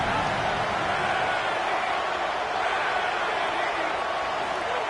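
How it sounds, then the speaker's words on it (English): A packed football stadium crowd roars during a third-down play in the red zone, a dense, sustained wall of cheering that stays loud and steady throughout. "Third down play in the red zone, and this crowd is at fever pitch."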